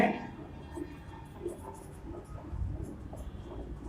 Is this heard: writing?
yes